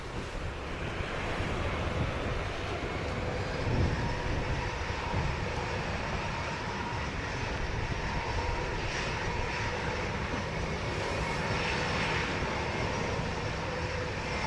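A Southwest airliner takes off from runway 07 in a strong headwind, its engines roaring steadily at a distance, mixed with gusty wind noise against the microphone.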